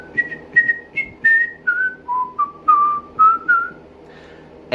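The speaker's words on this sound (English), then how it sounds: "the unmistakable sound of Veovis whistling to himself. The whistling now grew louder." A man whistling a short melody to himself, a string of clear, bright sustained notes and quick chirps rising and falling in pitch, close and alone against a quiet background.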